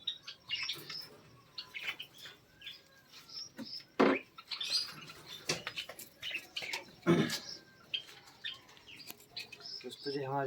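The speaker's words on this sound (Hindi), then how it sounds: "दोस्तों ये हमारी गिनी पिग है।" A pet guinea pig squeaks repeatedly at close range in short, high bursts and longer wheeks, with a few sharp louder calls breaking up the rapid, uneven chatter.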